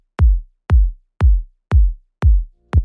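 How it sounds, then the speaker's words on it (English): Kick drum sample from a music mix, six punchy, deep thumps evenly spaced about half a second apart, each with a sharp attack and a short booming tail, loud and alone. "So if you have a kick that sounds like this,"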